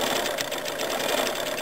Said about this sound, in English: press the pedal to get it going for 3 stitches